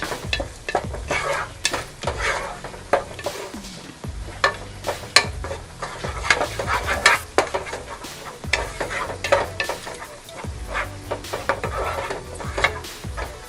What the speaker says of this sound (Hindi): अब इस पॉइंट पर हम डाल देंगे दही और इसे अच्छे से हिलाएंगे।